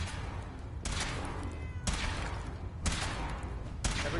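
Gunfire in Fallout 4 comes as four evenly spaced loud sharp shots, each about a second apart, with a short decay after each one.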